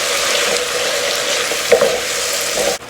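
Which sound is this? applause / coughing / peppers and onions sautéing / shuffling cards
peppers and onions sautéing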